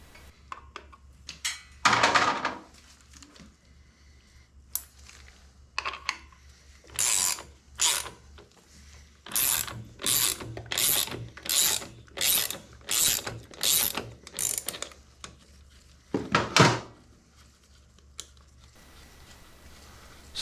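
Ratchet tightening clutch parts on the primary of a 1981 Harley-Davidson FXS-80 Low Rider: close, crisp clicking bursts, first scattered, then a steady run of about ten evenly spaced ratcheting strokes, with a final burst and quiet between.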